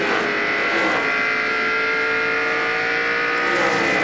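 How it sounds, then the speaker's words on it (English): NASCAR race car at the 2001 Pennzoil Freedom 400, a loud sustained engine drone with shifting pitch as the car slows then gently builds throttle, close and steady. "Hard on the brakes right here, then he'll start coming off the brakes, then start feeding the throttle very gently."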